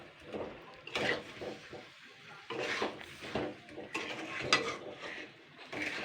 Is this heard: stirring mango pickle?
yes